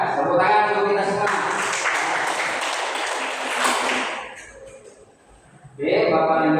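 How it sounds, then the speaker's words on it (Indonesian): Applause from a classroom audience breaks out after a teacher's lesson, a dense wash of clapping lasting a few seconds before fading, with talk before and after. "Tepuk tangan untuk kita semua"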